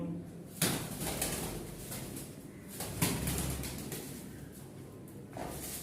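Rajshahi Giribaj pigeons, weak after a twelve-hour journey, coo softly in short repeated bursts, close but quiet, with faint background noise between calls.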